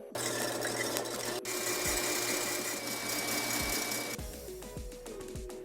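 An electric mixer whisking egg whites to stiff peaks for ricotta custard pancakes, a steady motorized whir with rhythmic low thumps and brief pauses in the beater tone, heard alone.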